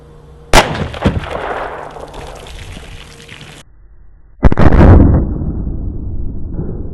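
A Glock 20 pistol fires Double Tap 135-grain rounds into a cow heart and pork ribs: two sharp, loud shots a few seconds apart, each followed by a short ringing decay.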